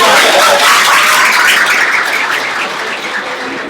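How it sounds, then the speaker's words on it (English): Applause from a live audience at a talk on building connections: dense, continuous clapping from many hands, loud and close, fading slightly toward the end, with no voices over it. "Give him a round of applause."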